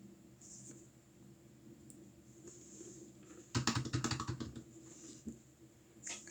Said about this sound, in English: Sorry, that was my keyboard.